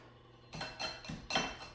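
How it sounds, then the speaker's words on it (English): A pastry blender cuts butter into flour in a bowl, several dull metallic scrapes and clinks against the bowl in an uneven rhythm, close and fairly quiet. "We're going to use the pastry blender, and we're going to cut in the butter."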